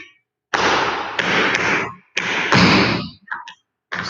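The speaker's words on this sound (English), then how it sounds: "Scuff, back flap, step stamp." Tap shoes sound out a scuff, back flap and step stamp on a hard floor. Broad, noisy bursts of scraping and stamping come close and loud, separated by brief gaps, with a couple of lighter taps near the end.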